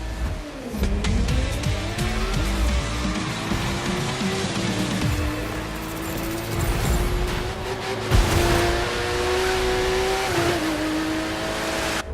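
Street racing cars in The Crew 2, continuous close engine roar with revs rising and falling through gear shifts, tire squeals and skids, loud and unbroken throughout.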